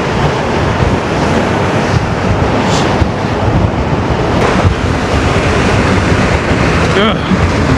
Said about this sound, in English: there goes that wind again